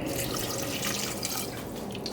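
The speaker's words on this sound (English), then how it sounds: "And we're going to add half a cup of water." Half a cup of water pours steadily into a pot of paprika-seasoned food during cooking. The splashing is close and continuous for about two seconds, with no voices.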